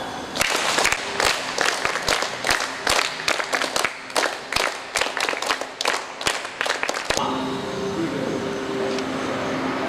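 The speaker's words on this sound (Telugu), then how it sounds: "all of you big claps" An audience at a karate day event claps in loud, sharp bursts that fall into a rough rhythm, then stops abruptly, leaving low background murmur.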